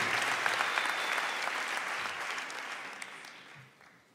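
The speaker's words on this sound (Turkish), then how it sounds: "alkışlar lütfen üstad için" Concert audience at a big band swing show applauding steadily, a dense wash of clapping that gradually fades out toward the end.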